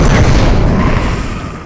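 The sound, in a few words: explosion of stone monster dying, video game sound design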